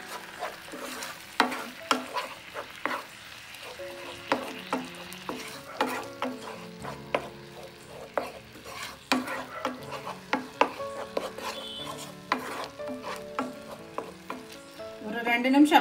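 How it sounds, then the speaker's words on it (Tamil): A spoon scrapes and knocks steadily around a pan of lentils in thick, bubbling melted jaggery, in a repeated stirring rhythm with soft sizzling underneath. "இந்த பருப்பை போட்டுருங்க. போட்டு நல்லா கிளறி விடுங்க."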